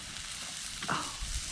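Steaks and an egg fry in a skillet at an outdoor campsite cookout, a dense continuous sizzle heard up close, with a brief scrape and a soft thump near the end.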